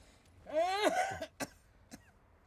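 A person coughs a few times in a quiet room, a throaty, strained cough with some throat clearing, followed by a couple of short, sharp cough bursts after a pause.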